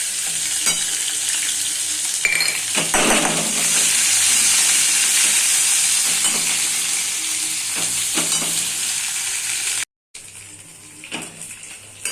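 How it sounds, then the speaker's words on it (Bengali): A paste of ginger, onion and garlic fries in hot oil with a steady, loud sizzle and occasional stirring scrapes. A brief gap near the end cuts the sound before the frying returns. "তেলটা একটু গরম হলে আমি এর মধ্যে আদা পেঁয়াজ রসুন বেটে রেখেছিলাম সেই পেস্টটা দিয়ে দেবো।"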